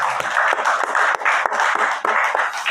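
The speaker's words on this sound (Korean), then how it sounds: "우리 하나님께 영광의 박수 올려드리겠습니다" Sustained applause from a church congregation at a Korean Thanksgiving worship service, dense and steady clapping filling the room for several seconds.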